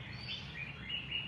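Pet songbird called Bánh Mì, kept by a bird-feed maker after its moult, chirps in short high bright notes repeated several times, fairly faint against a low background hum.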